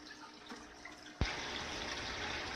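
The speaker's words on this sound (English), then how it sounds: "show you how I fill it with water" Water gushes suddenly into an aquarium tank layered with dirt and sand, a steady pouring rush that starts abruptly after a quiet moment and continues loudly to the end.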